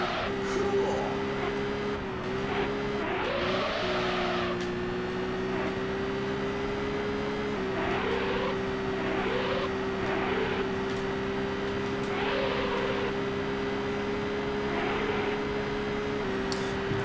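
A Mitsuoka Orochi's engine drones in the video game Auto Modellista, holding a steady whining hum with shifting revs and brief surges, while someone talks over it intermittently.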